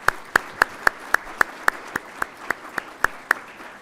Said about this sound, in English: if you would please join me in a round of applause to thank them for their participation